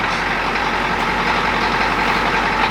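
A steady, rumbling diesel truck engine with a NASCAR-style exhaust idles continuously at close range, a low droning hum with no other sounds over it.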